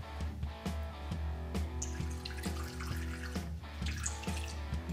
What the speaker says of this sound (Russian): Наливаем, добавляем в воду немного спирта.